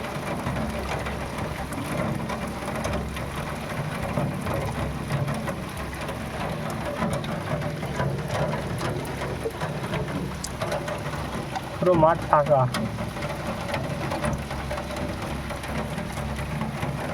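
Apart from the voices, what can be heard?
rain falling and water running off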